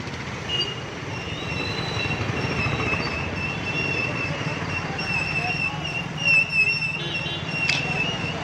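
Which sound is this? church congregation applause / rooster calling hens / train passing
train passing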